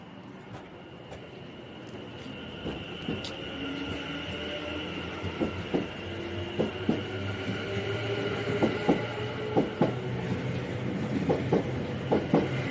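A train departs Aston station bound for Redditch, with a rising electric motor whine and a series of rhythmic wheel clicks over rail joints that quicken as it pulls away, moderately near.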